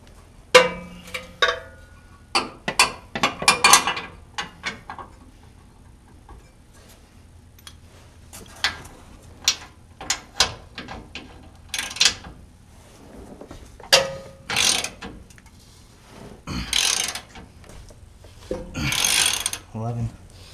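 A 7/8 wrench cranks a torsion bar bolt on a Toyota pickup, giving irregular metallic clicks and ratcheting scrapes in short bursts with pauses between, close by, and a voice speaks intermittently.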